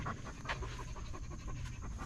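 A dog pants in quick, steady breaths close by, the rhythmic huffing continuing throughout at a moderate level over a low background rumble.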